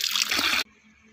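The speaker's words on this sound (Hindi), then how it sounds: "तो इसको जो है पानी से भर देते हैं हम" Water pours steadily to fill a cleaned container in a village setting, a loud, close, continuous gush that cuts off abruptly partway through and leaves a quiet background.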